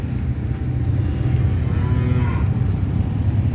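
Korean cattle on a farm in Chaiyaphum, Thailand, give one faint, drawn-out moo under a steady, loud background rumble, with no talking.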